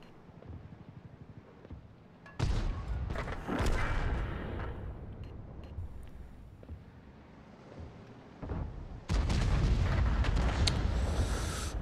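In World of Tanks, a Bat.-Châtillon 155 55 self-propelled artillery gun fires twice, each a heavy booming blast with a rumbling tail, the second louder and sustained, over a quieter engine-like background with no talk.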